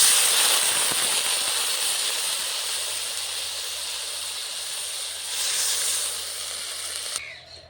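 Water pours into a hot pan for a Bengali pabda fish curry, giving a loud, steady broadband hiss that holds for about seven seconds and then cuts off abruptly.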